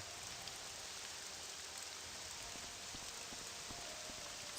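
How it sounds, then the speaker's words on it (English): Steady, dense rain hiss fills the background of a video game, a constant wash of falling rain with faint scattered drop ticks and no voices. "It's so weird about the rain in this game."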